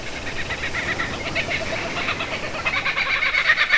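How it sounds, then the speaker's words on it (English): Birds singing in a forest with insects, a dense chorus of high chirps and trills over a steady hiss of ambience, continuous and moderately loud. "Orchestras of bird and insect erupt into song."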